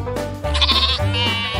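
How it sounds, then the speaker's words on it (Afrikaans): A sheep on a farm gives a single loud, close, quavering bleat lasting just over a second. "'n skaap blaar."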